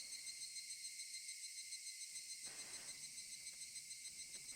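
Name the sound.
cicadas crying in the video game Higurashi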